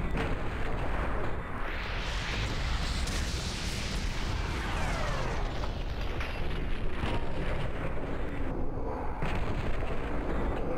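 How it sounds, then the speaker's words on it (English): Shotgun blasts in the video game Doom 3 ring out amid a dense, continuous roar of combat noise, with heavy booming bursts throughout and no clear separation between individual shots. "one shotgun blast kills an archvile?"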